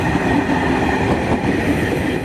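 A KRL commuter train rolling along the line near Cilebut, a loud, continuous rumble with rhythmic wheel clatter, heard close and alone.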